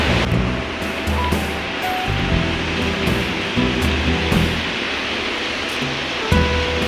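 Ocean waves wash onto a beach as a continuous broad roar of surf, moderately loud and steady with gentle swells, with no voices.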